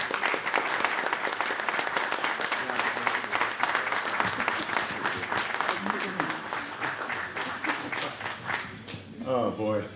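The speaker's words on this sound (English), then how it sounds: "Let's have a huge round of applause." Sustained applause from an audience at a 50th anniversary ribbon cutting for Community Advocate, a dense steady wash of clapping for most of the stretch that thins near the end as a voice begins.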